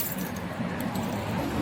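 Keys jingle and clink in a short metallic rattle during an airport security pat-down, fairly close, with no talking.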